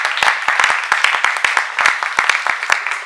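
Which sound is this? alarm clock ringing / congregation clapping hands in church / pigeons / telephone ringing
congregation clapping hands in church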